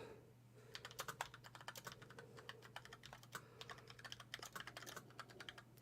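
Typing on a computer keyboard, with quick irregular clusters of crisp key clicks close by over a faint steady hum, no voices.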